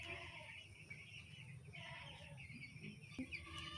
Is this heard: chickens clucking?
yes